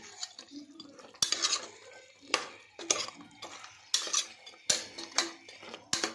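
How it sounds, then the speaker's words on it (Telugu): A spoon scrapes and clanks against a cooking pot as curry is stirred, with several sharp metallic knocks at irregular intervals between softer scraping strokes, close and moderately loud with no talking. "మధ్యలో ఇలా కలుపుతూ ఉండాలండి"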